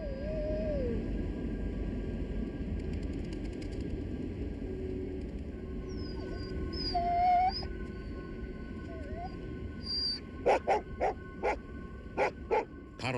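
Freed sled dogs returning to an Antarctic base: a series of sharp, evenly spaced barks and yips in the final seconds, preceded by scattered whimpers over a steady windy background.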